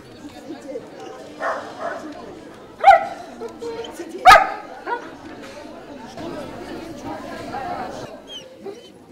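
Dogs at a prestigious 2011 dog show in Kaluga give two sharp, loud barks a couple of seconds apart against a busy hall of chatter and a voice talking.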